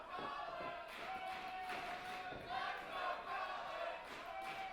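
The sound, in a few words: wrestling crowd cheering for Colin Muldoon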